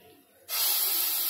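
Nigella seeds (kalonji) dropped into a hot pan burst into a sudden loud, broad hissing sizzle that holds steady, following a moment of quieter background.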